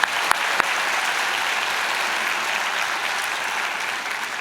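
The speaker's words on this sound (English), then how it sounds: "give yourselves a round of applause" Graduates at a morning college convocation applaud themselves, a broad even wash of clapping from a large hall crowd, steady throughout with a few sharp claps standing out early.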